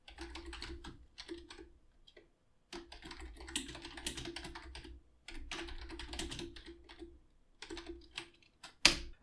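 Fingers typing a print command on a computer keyboard in a Python shell, bursts of quiet, close key clicks separated by short pauses, ending in one sharper tap.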